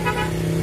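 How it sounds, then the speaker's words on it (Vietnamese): Road traffic passing outside the gate of Châu Thới temple in Vietnam, a steady close rumble of engines with a horn tooting briefly, loud and continuous. "Ở đây có xe cộ rồi lên xuống thường xuyên"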